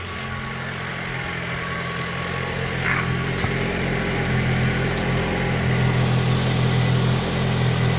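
A car engine idles steadily close by after an oil change, a constant low rumble with faint vibration that holds at the same level throughout.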